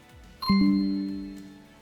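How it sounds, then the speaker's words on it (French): An ntfy push notification chime fired from a Home Assistant automation rings out once, loud and close: a sharp bell-like ding with a bright ringing tone that decays over about a second and a half, with no talk over it. "on a entendu la notification, vous avez dû l'entendre à la vidéo"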